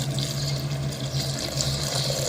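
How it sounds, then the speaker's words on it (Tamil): Thick coconut milk poured into a pot of chickpea biryani, a loud, steady liquid pour with a continuous rushing splash close by. "அதுக்கப்புறம் தேங்காய் பால் ஊற்ற ஆரம்பிச்சிடணும்"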